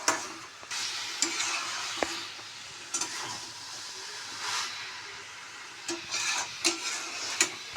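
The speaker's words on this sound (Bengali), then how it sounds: "একটু নেড়ে দিই। আলুগুলো সিদ্ধ হয়ে গেছে।" Boiled potatoes and cabbage being stirred in a frying pan, a steady soft sizzle broken by repeated scraping strokes of a spatula against the pan, close and fairly quiet, with no talking.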